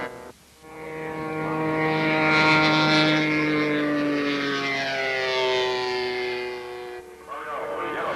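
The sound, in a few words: model airplane flying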